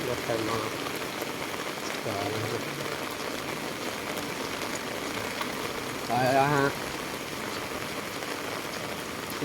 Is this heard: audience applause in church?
no